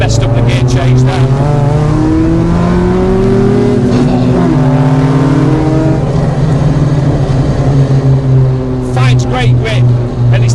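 A modified mk2 Golf GTI is driven hard through tightening corners in second gear, its engine howling and rising in pitch, briefly faltering on a fumbled gear change, with talk running over it throughout.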